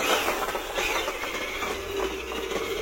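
A Traxxas 4Tec Drift Mustang RC car drives along, giving a steady, continuous whirring and rolling noise that stays fairly even throughout, with no talking.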